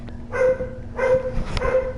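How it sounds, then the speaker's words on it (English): A dog barks three times in a loose rhythm, a little distant, with a faint steady hum underneath and no one speaking. "Why is my dog barking?"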